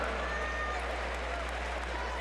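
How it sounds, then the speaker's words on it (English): A large arena crowd applauds at the 2018 CrossFit West Regional men's event in Del Mar Arena, California: a steady, dense wash of clapping and crowd noise over a constant low hum, with an announcer talking over it. "Big round of applause."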